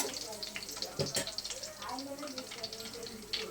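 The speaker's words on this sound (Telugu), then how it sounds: "సపరేట్గా మళ్ళీ ఆయిల్ వేసి ఎర్రగడ్డను బాగా ఎర్రగా వేసుకోవాలి" Onions frying in oil in a pan for a fish curry, a soft continuous sizzle with crackly bursts, heard under someone talking nearby.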